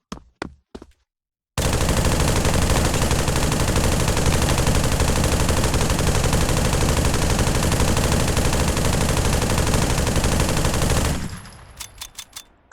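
A belt-fed machine gun in Pavlov VR fires one loud, unbroken burst of about ten seconds, preceded by a few mechanical clicks and followed by a handful of clacks as it stops.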